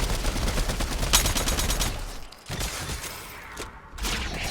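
Shotgun fire in the video game Fortnite during a solo Castle Wars match, dense bursts of loud gunshot blasts packed together over the first couple of seconds, then a short gap and further rapid firing close up.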